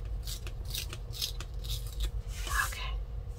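Scissors cutting paper for a cash envelope wallet, a quick run of short crisp snips close to the microphone with a faint scrape near the end.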